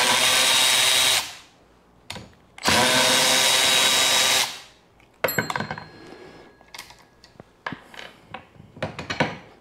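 A power tool removes bolts from the frame of a rusting Porsche 911 Carrera: two loud, sustained whirring runs, then short bursts and clanking, rattling metal handling, close and without talking.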